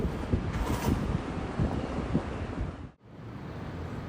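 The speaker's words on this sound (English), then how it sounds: "This is the audio from my smartphone with its own microphones, and I'm recording this on a windy morning." Wind buffets the built-in microphones of a smartphone recording outdoors on a windy morning, a steady low roar with gusty rumble that briefly drops out near the end before resuming.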